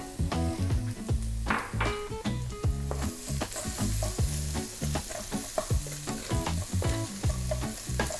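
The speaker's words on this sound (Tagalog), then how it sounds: "Magigisa na po tayo. Unahin natin yung ating garlic." Garlic sautéing in a little cooking oil in a pan for Filipino chicken curry, a constant crackling sizzle punctuated by repeated close metallic stirring clanks and scrapes of a utensil against the pan.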